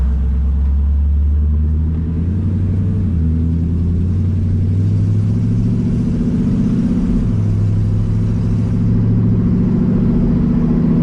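A 1950 Ford F1 pickup's engine hums steadily at low pitch while driving, heard with the windows open, with a deep continuous rumble and slight shifts in revs throughout.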